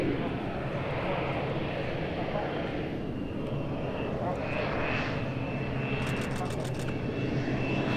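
A light airplane's engine drones steadily and fairly loud throughout on landing at an airshow, with an air traffic controller's voice speaking over it.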